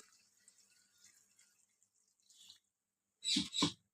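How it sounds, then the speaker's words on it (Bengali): Water poured into a pan of jackfruit and egg curry being sautéed: a faint trickle first, then two short, louder splashing pours near the end, with no talk. "এবার আমি অল্প জল দেবো"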